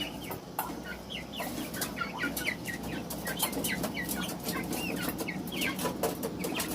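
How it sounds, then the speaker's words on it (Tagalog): Chickens cluck repeatedly in short overlapping bursts, several birds at once, over a steady low background hum; ducks are kept with them. "Ito po yung manok niya at saka pato"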